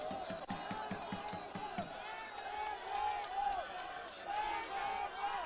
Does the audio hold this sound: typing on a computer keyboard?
no